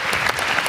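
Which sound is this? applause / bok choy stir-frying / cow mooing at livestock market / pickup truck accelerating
applause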